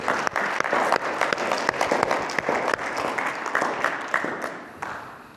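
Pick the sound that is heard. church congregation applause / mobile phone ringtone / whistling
church congregation applause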